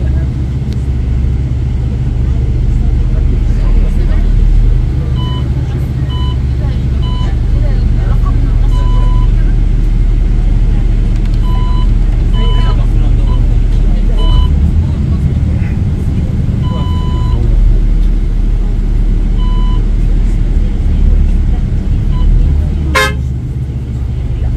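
Heavy gridlock of cars and buses crawling out of Mina during Hajj, with a loud idling engine rumble close by, repeated short horn toots scattered throughout, and a person talking over the traffic.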